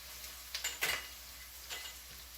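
Whole cloves and other spices tossed into a hot pan give a few brief, faint crackling bursts of sizzle and light clatter over a quiet hiss.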